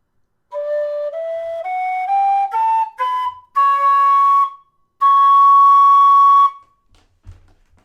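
A D tin whistle climbs note by note through its second octave, clear piercing tones rising in steps, then two long sustained high notes played alone with brief gaps between them.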